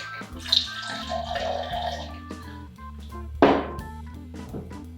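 Vodka is poured into a mixing glass for a Cosmopolitan, a short liquid splash and trickle with a clink of glass, close and clear with no talk.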